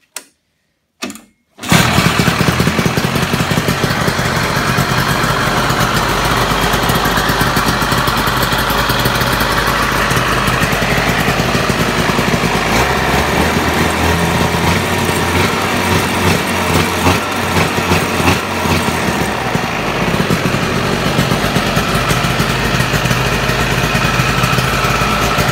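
A Ski-Doo Olympic 399 twin snowmobile engine catches after a couple of brief start attempts, then idles steadily and loudly close by for a long stretch with a raspy, buzzing two-stroke note and slight wavering.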